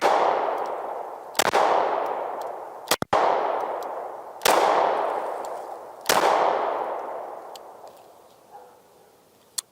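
Several sharp pistol shots from a lightweight aluminum-frame Browning FN Hi Power, each a loud crack followed by a long ringing decay outdoors, spaced a second or two apart with one quick double.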